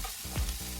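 Finely chopped green chillies frying and browning in a pan for fish curry, giving a steady close sizzle with brief stirring scrapes around the middle and end of the short stretch, no voices.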